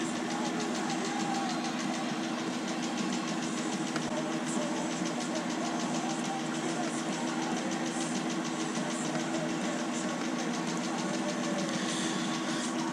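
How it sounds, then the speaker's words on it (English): A warmed-up Land Rover Series 3 engine runs steadily at idle, an even, continuous mechanical drone with a fine regular ticking, heard alone at moderate volume. "a spark when the engine's in normal operation, that is warmed up, running steadily"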